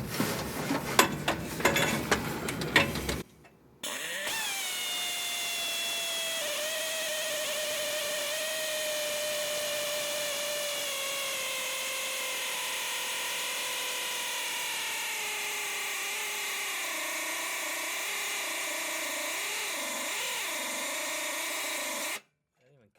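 Power drill with a step bit boring a hole through a car hood in a garage, a long whining run that slowly falls in pitch as it cuts, after a short burst of clattering at the start.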